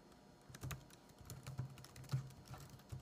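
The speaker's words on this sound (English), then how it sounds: "This is a membrane keyboard." Fingers type on an Apple Mac membrane keyboard, making soft, muted key taps in an irregular rhythm, a handful of quiet clicks close up in a still room.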